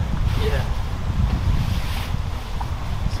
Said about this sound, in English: More wind than I was anticipating today